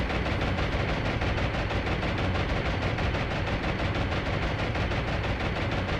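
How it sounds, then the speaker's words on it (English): Intense anti-aircraft gunfire in the naval combat game War on the Sea, a dense, relentless barrage of rapid overlapping shots and booms that stays loud and unbroken from start to finish. "That is really intense anti-aircraft fire."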